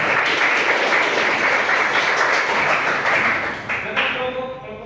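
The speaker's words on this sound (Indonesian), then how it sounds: "Oke, kita beri tepuk tangan dulu." Classroom applause for a student group, dense steady clapping with voices mixed in, fading slightly toward the end.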